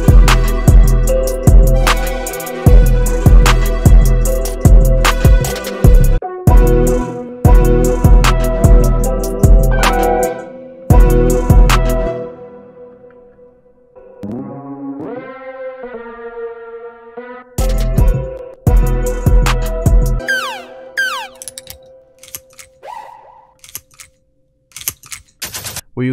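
A hard-hitting beat built from Cymatics Mayhem sample pack sounds, with loud, punchy drums in a steady driving rhythm, a brief breakdown of sustained melodic tones in the middle, then the full groove returning.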